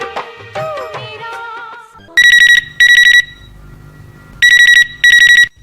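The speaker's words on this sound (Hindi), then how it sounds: "हेलो, फोन इन फरमाइश।" A telephone rings twice in close electronic bursts on a Hindi radio phone-in request show, cutting in after a Hindi film song fades out, then rings twice more after a short pause, loud and close.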